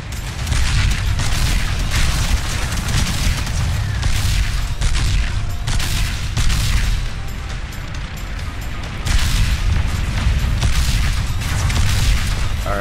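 Explosions and weapon fire in the Robocraft vehicle combat game, repeated loud bursts and booms in irregular clusters over a rumbling mechanical background, continuous and dense.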